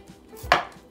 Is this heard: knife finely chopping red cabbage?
yes